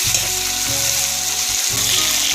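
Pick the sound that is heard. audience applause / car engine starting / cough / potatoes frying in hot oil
potatoes frying in hot oil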